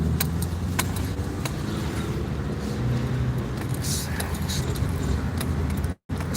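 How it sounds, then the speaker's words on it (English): Cars in a traffic jam on East Oakland streets, a dense continuous rumble of nearby engines and road noise with metallic jangling clinks scattered through it, ending in a brief cut to silence. "Man, it's traffic jam over here."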